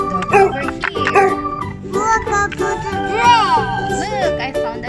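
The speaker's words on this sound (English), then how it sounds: "Let's put this dog over here." A toy dog's electronic bark and yip sounds rise and fall in short bursts, blended with childlike voice sounds and playful background tones.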